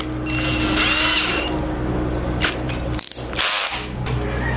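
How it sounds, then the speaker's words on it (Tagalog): A power drill whirs with a steady mechanical whine while a motorcycle hand brake part spins in its chuck, then briefly cuts out and surges again, loud and close. "Tapos ikakabit ko to sa chuck ng drill."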